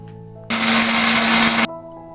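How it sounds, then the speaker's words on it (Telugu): Mixer grinder grinding ginger with coarse salt and garlic cloves, a loud steady motor whir with a strong hum, running alone for about a second and a quarter before stopping abruptly. "ఇప్పుడు వీటిని మనం గ్రైండ్ చేసుకోవాలి."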